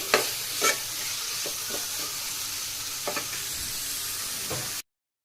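Potatoes and peas frying in a pan give off a steady, close sizzle, broken by a few scraping stirs before the sound cuts off abruptly.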